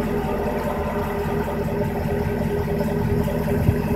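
A 2017 Chevrolet Camaro SS with a six-speed manual idles nearby in a steady, deep, even engine drone with no talking over it.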